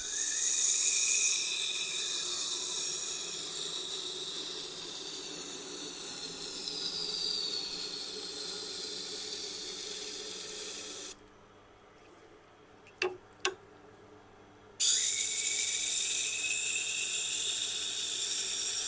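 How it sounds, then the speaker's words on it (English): Knife tip being ground on a sharpening stone wheel, a hissing, whirring abrasion that runs steadily, drops away briefly with a couple of sharp clicks, then resumes close and strong. "all it has to do is touch the wheel and the stone will abrade it away"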